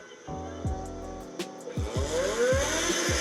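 A hatchback racing car with a stock Honda K20 engine revs hard and accelerates, its pitch climbing repeatedly through quick gear changes, loud and close with a brief sharp mechanical bang midway.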